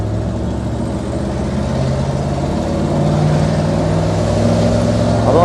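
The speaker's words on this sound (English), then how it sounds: "I can listen to that V8 rumble all day long" Steady low V8 rumble from a 1946 Mercury 8 convertible, a continuous close engine drone that swells slightly louder partway through, with no talking over it.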